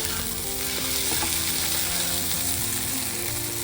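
Spice paste fries and sizzles in a pan with hot water being stirred in for a rice and parwal dish, a steady close, continuous crackle with soft stirring scrapes throughout.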